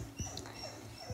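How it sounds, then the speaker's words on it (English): A dog in the background lets out a few short yelps or barks, faint and brief against a steady hum of game sound. "if you hear a dog barking, that's just my dog"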